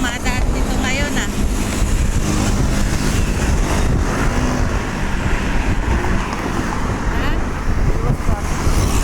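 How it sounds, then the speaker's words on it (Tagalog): Heavy, continuous roar of many vehicles streaming past on a busy Philippine road on a Friday, loud and close with wind buffeting the microphone and a voice talking over it. "Araw ng Biyernes, ang dami dumadaan dito ngayon ah."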